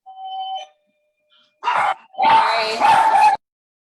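Dogs barking in short bursts: a faint tone first, then a brief bark and a longer run of overlapping yips and barks, close and fairly loud, ending abruptly.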